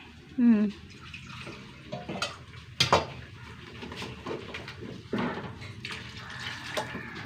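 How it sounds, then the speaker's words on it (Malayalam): Water splashes into a pot of chicken curry amid clinking of pans and utensils, close by, while a person talks intermittently. "ചിക്കൻ വേഗം വെള്ളം ഒഴിക്കട്ടെ"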